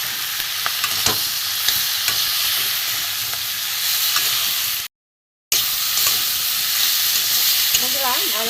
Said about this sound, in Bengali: হলুদ গুঁড়ো, জিরে গুঁড়ো, ধনে গুঁড়ো, আদা গ্রেট করা, একসাথে আমি কষিয়ে নেব।